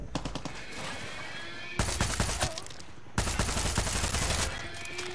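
Sustained automatic gunfire from the video game Far Cry 6, loud and continuous with dense rapid shots, breaking into two heavier bursts with a brief pause between, no talk over it.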